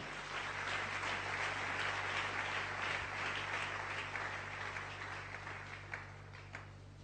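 A church congregation applauds together during a worship service, a steady wash of clapping that holds for several seconds and then thins slightly toward the end, over a low electrical hum.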